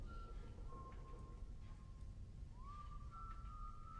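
A thin, steady whistle holds a high pitch, dips lower, then slides back up, playing over a low, rumbling background.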